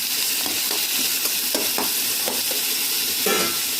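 Small coconut pieces sizzle steadily in a hot pan on a light fry, with a constant loud hiss and scattered stirring scrapes, no talking.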